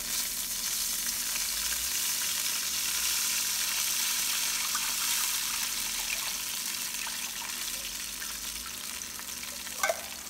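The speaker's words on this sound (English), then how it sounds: "We will put our coconut milk." Coconut milk sizzling and bubbling steadily in a pan with cooked ginger, a loud continuous frying hiss with a few faint clinks near the end, no voices.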